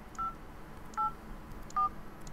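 A phone keypad sounds three short, evenly spaced dialing tones as a number is entered, clear and close over a faint steady background hiss.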